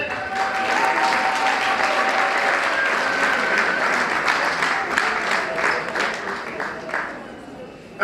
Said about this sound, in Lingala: je vous demande d'emblée de pouvoir applaudir très très fort